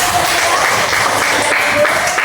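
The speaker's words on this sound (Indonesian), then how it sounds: "Oke, sama kita beri tepuk tangan." Classroom applause from a group of schoolchildren, a steady even patter of many small hands clapping together at a moderate level, with a faint voice or two mixed in.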